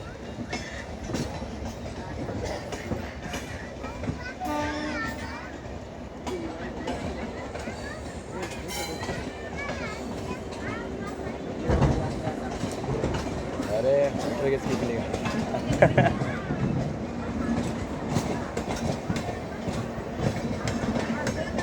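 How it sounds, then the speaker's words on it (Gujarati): Bilaspur–Okha train wheels on the railway track run with a steady rumble and rhythmic clatter near Rajkot's outer signal, and the sound grows louder and harsher partway through. "ટ્રેક સાઉન્ડ સાંભળો ભાઈ"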